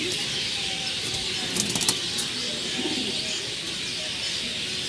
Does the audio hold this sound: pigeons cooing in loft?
yes